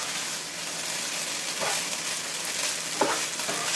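Fried rice being stirred in a hot pan with chili oil, a steady broadband sizzle with soft scraping strokes of the spatula, close and continuous.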